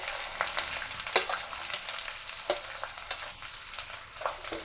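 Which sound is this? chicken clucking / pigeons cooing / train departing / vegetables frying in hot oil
vegetables frying in hot oil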